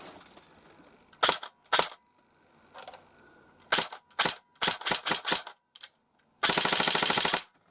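Jing Gong SA58 FAL airsoft rifle firing with electric blowback: sharp mechanical clacks, first as single shots and short bursts, then a sustained full-auto burst, close and loud with no voices.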